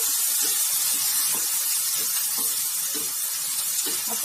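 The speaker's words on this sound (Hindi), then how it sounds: "तो अब मैं इसमें ये टमाटर डाल रही हूँ।" Hot oil sizzles as two medium chopped tomatoes are added to a tempering of chilies for a peas and khoya curry, a steady close hiss with faint crackles underneath.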